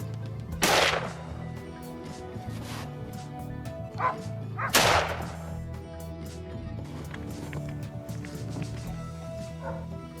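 Hunting hounds bark in a few sharp, loud bursts spaced apart, with fainter yips between them over a low background rumble.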